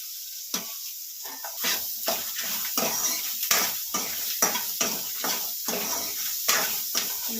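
Spices fry in hot oil in a pan for a sprouted-gram sambar, a steady close sizzle broken by repeated sharp scrapes and clinks of stirring, with no voices.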